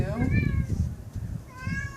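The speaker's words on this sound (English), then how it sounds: "excuse my cat there" A cat meows a few times close by, its rising and falling cries mixed with a low voice talking in the background.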